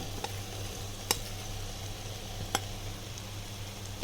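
Marinated paneer being stirred into a sizzling spring onion curry in a pan, with a steady low sizzle throughout and a few sharp clinks of the spoon against the pot.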